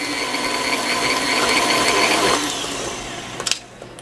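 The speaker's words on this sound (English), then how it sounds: "Blend this real quick. Okay. Here we go. Mix it well." A kitchen blender whirs steadily while mixing eggs for a carrot cake batter, a loud continuous motor drone that cuts off about two-thirds through, followed by a few brief clatters.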